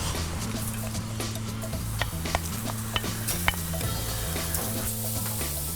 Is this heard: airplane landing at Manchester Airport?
no